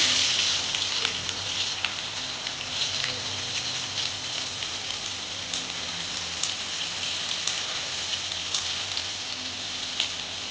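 Chopped onion goes into hot oil with cloves, black peppercorns and a little cumin for a chicken curry, giving a constant crackling sizzle with fine popping, close and steady throughout.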